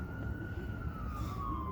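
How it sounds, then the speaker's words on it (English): An ambulance siren drifts past outdoors, a steady wailing tone slowly falling in pitch over a rumbling background, fairly distant and continuous. "Hey, that's the ambulance right there."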